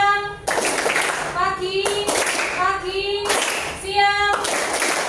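Children clap hands in rhythmic bursts during a classroom clapping game, loud and close, alternating with an adult and kids chanting words between the claps.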